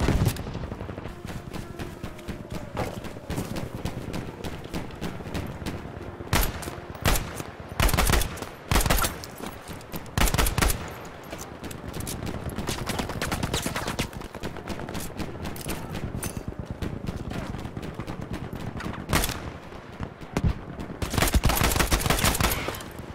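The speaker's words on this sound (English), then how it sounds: "God, this gun. Fire rate is like a machine gun." Swedish AG-42 semi-automatic rifle fire in Battlefield V, rapid sharp shots fired in dense bursts almost like a machine gun, loud and close, with brief pauses and scattered distant battle noise between volleys.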